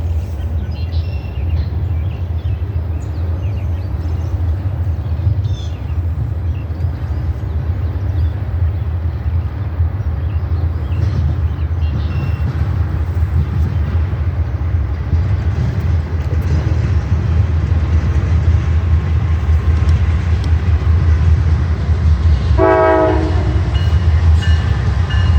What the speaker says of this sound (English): Next up is another Norfolk Southern intermodal going east.